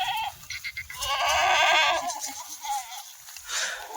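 Kathiyawadi goats bleating at a farm, a few calls overlapping across the stretch, fairly close and clear with some low background rumble and no talk.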